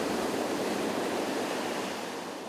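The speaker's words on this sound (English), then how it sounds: "a rush of water is thrown forward on the beach, and then this water returns to the sea" Steady broadband rush of ocean waves on a beach as swash surges up the shore and backwash drains back, loud and close with no voices.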